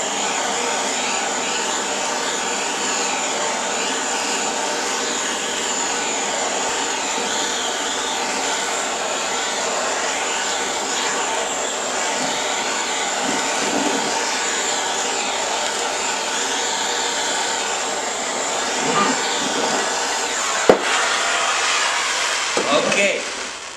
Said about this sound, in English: get you a propane bottle. You turn it on, and you melt that cheese